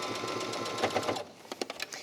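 A sewing machine runs steadily through pinned, quilted fabric layers for a tablet cover, a fast even stitching whir that stops partway, leaving a few soft handling clicks and bumps.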